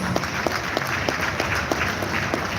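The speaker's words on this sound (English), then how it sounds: "Please, a better applause." Steady applause from an audience at a real estate summit, a dense even patter of many hands clapping throughout with a few sharper individual claps standing out.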